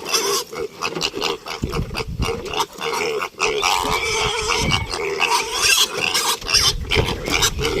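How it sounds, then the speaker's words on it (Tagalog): Hungry piglets squealing and grunting loudly at close range, a dense continuous chorus of overlapping high squeals throughout. "Tama kasi nagutom na yung mga biik."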